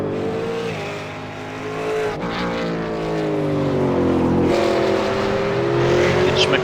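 A V8 Supercar race car engine roars loudly through the final turn of a circuit, its steady pitch sagging briefly as it lifts off and then rising again under power as it accelerates away, with a faint commentator's voice beneath.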